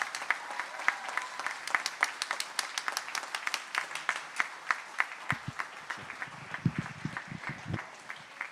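Audience applause follows a performance of a freedom song at an Emancipation Month event, steady clapping that thins into scattered claps and fades toward the end, with low thumps near the close.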